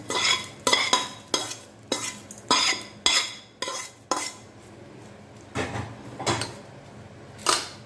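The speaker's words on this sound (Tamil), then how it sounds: "இப்போது நம்ம தாளிச்சதை இங்கே கொட்டிடலாம்." A metal spoon stirs and scrapes through mint rice after a tempering is poured in, loud repeated clinks and scrapes against the pot in uneven bursts with short pauses between strokes, and no talking.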